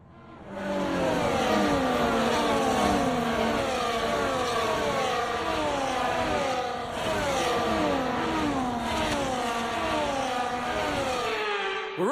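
Formula 1 race cars in the F1 24 video game rev their engines on the formation lap at the Chinese Grand Prix, a dense, continuous whine of several engines rising and falling in overlapping sweeps, loud and steady throughout.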